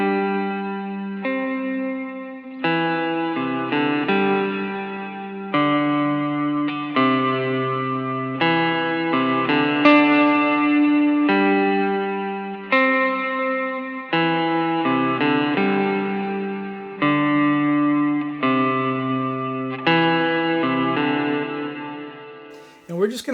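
Electric guitar playing a sustained chord riff for a worship song, drenched in ambient reverb with a bright upper shimmer, each strummed chord ringing out and blending into the next in a steady pattern with no talking.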